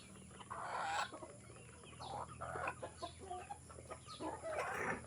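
Several chickens cluck and murmur softly at close range while eating feed, irregular bursts of short calls against quiet background noise, no talking.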